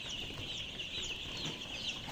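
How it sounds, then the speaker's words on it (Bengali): White layer chicken chicks crowded together on a farm of about 2500 birds, a dense, continuous chorus of high peeping and cheeping at steady moderate loudness with no talking. "লেয়ার মুরগির বাচ্চা"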